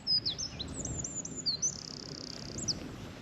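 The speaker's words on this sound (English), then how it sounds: "The birds are singing" Birds singing outdoors in the Peak District countryside, thin high chirps and whistled phrases repeating over a soft wind-like background, fairly faint and distant with no voices.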